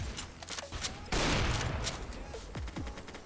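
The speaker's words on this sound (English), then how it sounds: "Shoot out the tires." Gunfire aimed at car tires in a Roblox minigame, with rapid shots crackling over a loud rushing burst, faint and busy with other game sounds.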